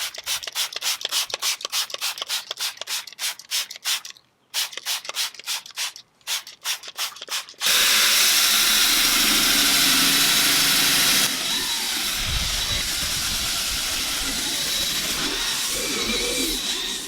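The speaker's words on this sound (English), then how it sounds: "Really just use that drill brush, that spray, and then I try to wipe off as much of the residue as I can." Rotary drill brush scrubbing stains from the interior of a 2014-18 Chevrolet Silverado/GMC Sierra pickup, a loud steady whirring grind that runs continuously after an earlier stretch of rhythmic rubbing strokes, with no talking.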